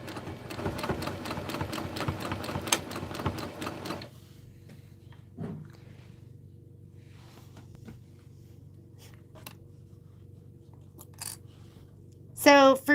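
A sewing machine runs close by in a sewing and vacuum shop, its rapid, even stitching rattle lasting about four seconds before stopping. Quiet follows, broken only by a few faint clicks and a brief rustle near the end.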